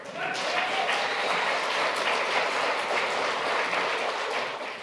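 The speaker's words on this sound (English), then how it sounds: "Thanks for the clapping, but it takes more time." An audience at a council meeting claps briefly, a dense, fairly quiet patter of hands spreading across the room, with a faint voice briefly audible at the start.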